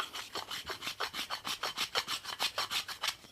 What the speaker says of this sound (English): Bevel the edges.